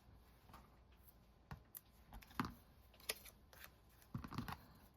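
Scissors trimming tape on a junk journal page: a few soft snips and crisp clicks scattered irregularly, close but faint, with light paper rustling between cuts.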